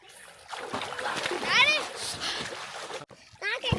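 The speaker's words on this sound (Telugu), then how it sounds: "కన్నయ్య అయితే వాటర్లోకి దిగుతుండే ఇప్పుడు." Water splashing in a swimming pool set up in the trailer of a tractor, with bursts of splashing under children's voices and shouts nearby.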